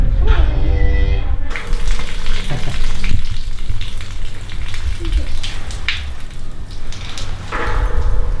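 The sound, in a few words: heifer (cow) relieving herself during first milking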